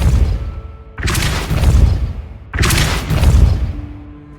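Depulso spell cast in Hogwarts Legacy, two heavy whooshing blasts with booming low rumble, about a second and a half apart, loud and near.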